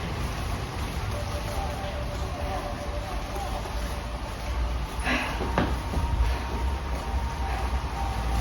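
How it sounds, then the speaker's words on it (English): Rain falls steadily at a house, a continuous hiss of drops with a few brief clatters partway through, under faint background sound. "Start to rain at my house too."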